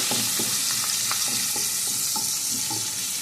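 Green chillies and onion with curry leaves fry in oil in a pan, giving a steady close sizzle with soft stirring scrapes and light taps throughout, alone.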